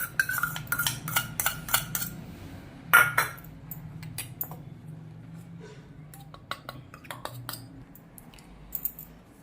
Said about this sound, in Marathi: तांदळाचं पीठ दीड चमचा घेतलेला आहे आणि दोन चमचे चांगलं तूप घेतलेलं आहे आता मी मिक्स करून एकत्र करून घेणार आहे